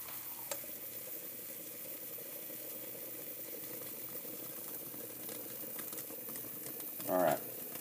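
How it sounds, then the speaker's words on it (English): A moka pot brews coffee on a camp setup with no power, giving a faint, steady hiss and soft bubbling. A short, louder sputtering gurgle comes near the end. "I don't know if you can hear it or not, but it's still brewing."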